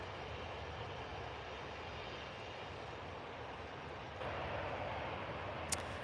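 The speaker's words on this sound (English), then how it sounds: "Ryanair taxi's just landed back to Manchester" Ryanair airliner taxiing at Manchester Airport, a distant steady engine rumble and whine, continuous and fairly faint.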